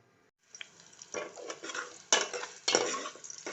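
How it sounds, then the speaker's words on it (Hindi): Half an onion fries in oil with whole garam masala (cumin, cinnamon, black pepper, crushed cardamom and cloves), a soft sizzle under bursts of a metal spoon stirring and scraping against the pot, close and irregular. "ऑयल में प्याज फ्राई हो रही है।"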